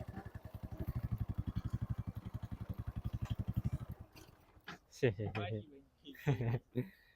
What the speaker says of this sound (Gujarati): ચાલો આપણી બાઇક થઈ ગઈ પાછી ચાલી